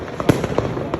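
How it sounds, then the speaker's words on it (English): New Year fireworks burst over Odense on Fyn, Denmark, in winter: several sharp pops and cracks, some near and some farther off, over a steady crackling rumble. "Fireworks is going on."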